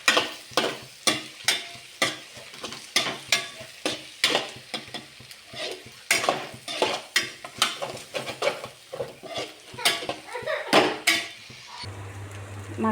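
Egg rice mixture being stirred in a pan over a low flame, a rhythmic run of sharp spatula scrapes and knocks against metal over a faint sizzle, repeating about twice a second before it stops.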